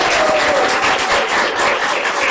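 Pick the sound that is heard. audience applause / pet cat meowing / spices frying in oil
audience applause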